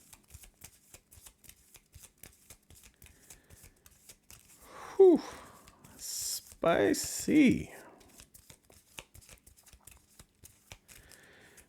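A deck of Marvel Champions cards is riffle-shuffled in a few quick bursts near the microphone, with a voice speaking briefly between the shuffles.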